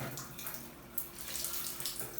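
Water running through a shower heater, a steady close hiss of flowing water with slight splashing and no speech.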